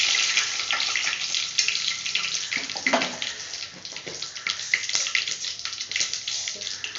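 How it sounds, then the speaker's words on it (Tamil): Mustard seeds fry in sesame oil with a crackly, steady sizzle full of small pops and spatters, fairly close and continuous. "நல்லெண்ணெய் குழம்புக்கு தேவையான எண்ணெய் சேர்த்துக்கலாம் கடுகு சேர்த்துக்கலாம்"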